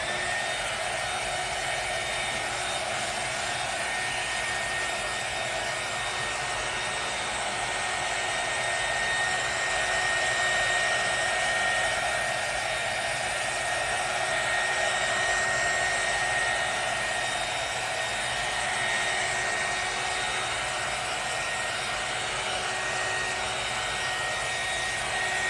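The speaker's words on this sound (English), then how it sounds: "then just use a heat gun or a hair dryer." A heat gun or hair dryer blows steadily for a long stretch, drying paint on a handmade welcome sign, producing a loud, even whooshing whine with a faint tonal hum and no talking.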